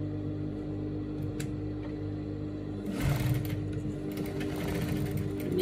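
A sewing machine stitches a pencil skirt seam with a steady mechanical whirr that speeds up and grows louder about halfway through. The stitching runs continuously and close up, with no voices.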